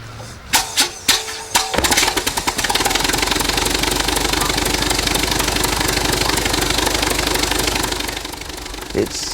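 An old piston engine of an LVG C.VI, a classic German aircraft, coughs through several loud pops and bangs, then catches and settles into a steady, throbbing roar that runs on.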